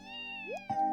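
A cat meows once in The Legend of Heroes: Trails from Zero, a short rising call standing out over a soft, steady game music background.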